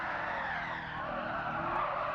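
Tyres squeal steadily as a car drifts in the racing video game Gran Turismo 7, using a steering wheel setup, with engine noise underneath; one loud, continuous skid lasting the whole stretch without a break.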